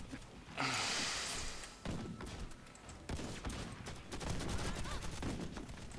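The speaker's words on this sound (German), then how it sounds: "Wer hat da eine Granate reingeschmissen?" A grenade blast in the online shooter Warface lands with a loud thump and rumble, followed by ongoing gunfire and clatter.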